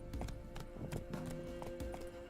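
Roach, a horse in the video game The Witcher 3, trots with a steady, clear clip-clop of hooves, the beats evenly spaced and close, with no talk over them.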